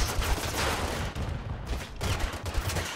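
Sustained machine gun fire in Totally Accurate Battlegrounds, a loud, dense rattle of rapid shots over three seconds with a brief dip partway through.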